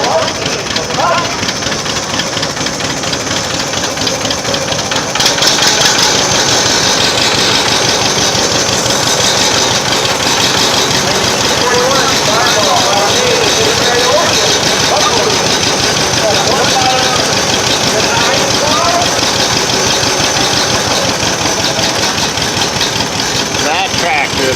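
A 1941 Farmall tractor engine runs steadily at an old engine show, a continuous mid-pitched rumble that carries through the whole stretch, with crowd noise and voices mixed in around it.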